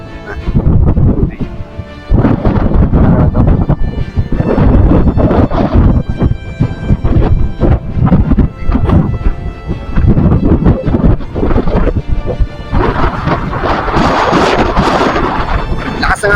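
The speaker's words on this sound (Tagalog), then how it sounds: "Lakas ng hangin dito mga idol." Strong wind roars across a mountain in loud, continuous gusts that buffet the microphone, with rushing surges building toward the end.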